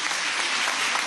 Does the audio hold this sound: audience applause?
yes